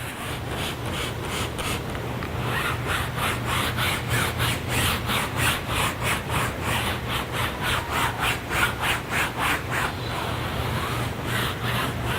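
Straight back-and-forth scrubbing strokes on a convertible's fabric soft top, a steady rhythmic rubbing brush sound repeating closely and evenly throughout with a low hum beneath.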